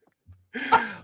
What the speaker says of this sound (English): excuse me, my cough is terrible